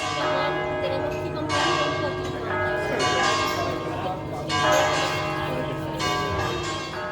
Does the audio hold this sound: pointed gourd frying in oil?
no